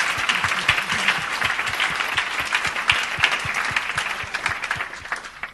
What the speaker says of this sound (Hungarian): Hogyha boldog vagy, tudod, akkor lehet tapsolni.